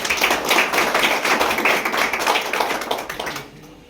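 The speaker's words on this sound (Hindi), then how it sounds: "तालियां बजाकर सर का स्वागत करता हूँ" An audience claps in welcome at a naturopathy day event, a brief, fairly close burst of many hands clapping that fades out at the end.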